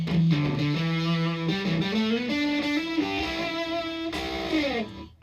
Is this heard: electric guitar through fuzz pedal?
yes